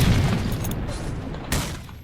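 A loud grenade blast from the video game S.T.A.L.K.E.R.: Shadow of Chernobyl booms at the start and rumbles away, with a second sharper burst shortly after, no voices.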